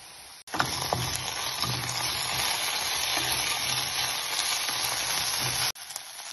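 Ginger garlic paste hits a pan over a low flame with a sudden onset, giving a steady, close frying sizzle that holds for about five seconds, then cuts off abruptly.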